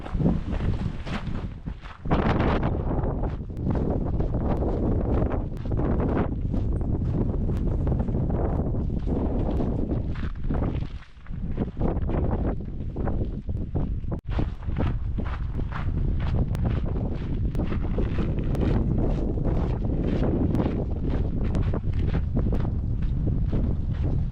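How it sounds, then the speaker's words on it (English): A freezing, icy wind blasts across an abandoned mountain road in the Superstition Mountains of Arizona, roaring into the microphone as a loud, continuous buffeting rumble that briefly eases once before surging back, with faint footsteps underneath. "It's freezing. The wind is ice wind."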